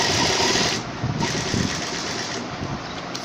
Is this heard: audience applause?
no